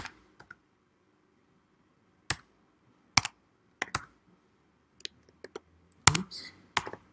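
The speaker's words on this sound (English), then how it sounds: "Try not to tap too loudly on the keyboard there." Light typing on a computer keyboard, scattered key taps and short bursts of clicks with pauses between them, close and fairly quiet with no talk.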